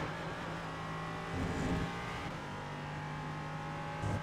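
Ligier LMP3 race car in iRacing at Mexico City's Autodromo Hermanos Rodriguez, its engine droning steadily with a swell of revs midway, continuous and close, with no voices.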